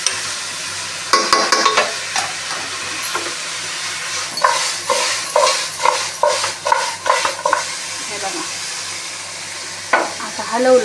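Chicken curry with onion and bay leaf being stirred in a pan, a spoon scraping and clacking in repeated close strokes over a soft sizzle, with brief pauses between bursts.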